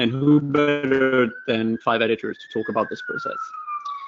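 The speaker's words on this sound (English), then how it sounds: "sorry for the noise, I'm in London, so lots of ambulances going around" An ambulance siren on a London street wails in a long, slowly falling tone, rising in the background beneath a person speaking close to the microphone.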